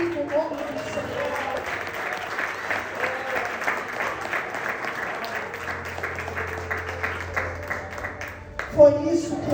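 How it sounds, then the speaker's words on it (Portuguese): A church congregation clapping steadily during worship, a sustained wash of many hands across the room for about nine seconds, with voices mixed in and a brief louder burst near the end. "As palmas glorificam o nome do Senhor."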